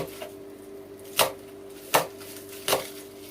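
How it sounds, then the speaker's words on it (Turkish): A knife chops nettle stems and greens finely on a board for nettle köfte, three distinct sharp thuds spaced under a second apart over a faint low hum, no talking. "Ufak ufak onları da doğruyoruz"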